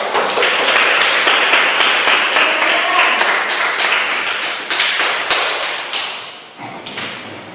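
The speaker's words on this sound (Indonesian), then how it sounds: "tepuk tangan buat kelompok 1" Classroom applause for a student group rolls on as a dense, steady patter of many hands, loud and close, thinning toward the end with a few last claps.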